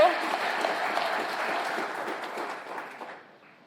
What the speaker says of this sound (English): So another round of applause for both of you.